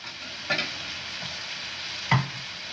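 Stewed sausage being stirred in a frying pan, with a soft, steady sizzle and two brief scraping stirs against the pan, no talking.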